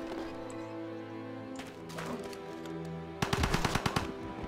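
Gunfire from attacking units in Civilization V, rapid machine-gun bursts rattling near the end after a stretch of game music and ambient effects, loud and close.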